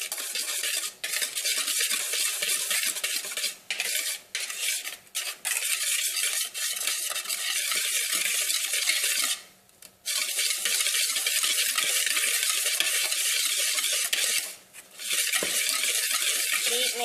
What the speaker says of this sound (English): Once you got your flour in, you're just gonna want to start mixing to get all the clumps out.